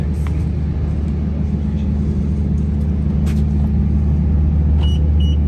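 A 2005 Toyota Hilux Surf turbo diesel hums as a steady, deep engine rumble heard from inside the vehicle, constant and loud with a few faint higher clicks on top.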